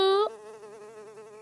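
Mosquitoes in a Hindi animated cartoon buzz with a steady, thin whining drone, loud at first and then settling into a softer, wavering hum close by, with no speech.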